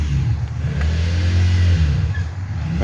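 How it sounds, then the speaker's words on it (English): A motorcycle engine revs steadily with a deep low rumble that swells and holds, loud and close, with no talking. "He's revving his bike up"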